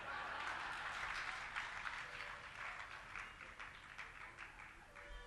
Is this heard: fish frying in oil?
no